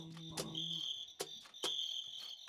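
A cricket chirps in high, shrill pulses, with a few sharp repeated trills and sustained tones over a quiet background.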